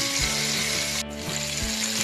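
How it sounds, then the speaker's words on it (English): Beef chunks searing in a hot pan for stew, a steady dense sizzle and fry crackle throughout, with a couple of soft clanks of a utensil against the pan. "Now the beef's getting nice and brown."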